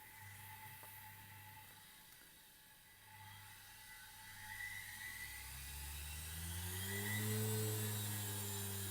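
A washing machine motor on a speed controller, set to reverse at minimum speed, whirs faintly and steadily, then its pitch climbs as the speed rises toward the end.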